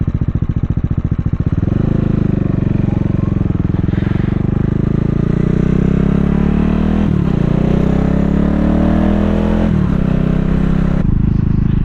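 A 2022 CCM Spitfire Bobber motorcycle idles loud and close as it warms up, its steady thumping engine rising slightly in pitch partway through, with a few faint clanks over the running motor.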